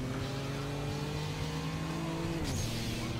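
Racing car engine from a RetroPie arcade game on a Raspberry Pi 4, droning steadily at high revs, then its pitch drops sharply near the end as the car shifts or slows, loud and alone.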